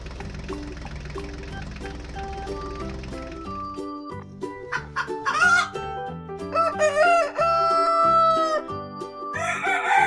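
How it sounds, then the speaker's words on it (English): Toy farm chickens cluck and a rooster crows in short, bright calls over a light musical backing, the bird sounds stacking up toward the end, with no talking. "I'm also going to add some chickens to the farm."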